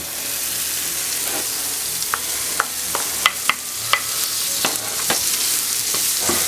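Shrimp, garbanzo beans and spinach fry in a pan with a steady, loud sizzle, broken by sharp pops and spatters. A few clicks of stirring are heard, with no voices.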